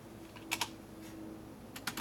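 Keystrokes on a computer keyboard while entering a BIOS flashing command for an Nvidia GTX 780 Ti Classified graphics card, two quick pairs of clicks near the start and a cluster near the end over a low steady hum.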